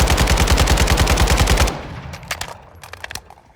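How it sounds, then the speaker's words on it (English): Rapid automatic gunfire on a firing range in Call of Duty: Modern Warfare II, a loud, close, evenly spaced burst of shots lasting under two seconds, then a quieter tail of scattered clicks and mechanical sounds. "let's go into the firing range and check out the gun kick"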